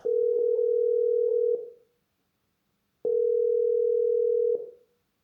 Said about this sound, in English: I phoned the number and no one answered.